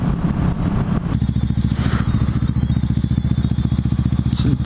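A motorcycle engine idles and runs steadily up close, a dense rhythmic low throb continuing throughout, with a brief clatter near the start and no talk.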